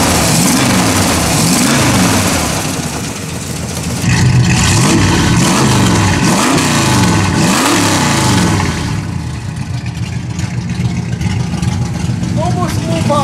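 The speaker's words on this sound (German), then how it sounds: "So muss ein Mofa abgehen." A moped with fresh spark plugs and newly set ignition revs hard, its loud buzzing two-stroke engine rising and falling in repeated throttle blips, close by and continuous throughout.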